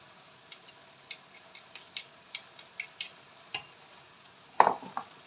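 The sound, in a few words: stirring rice in a pot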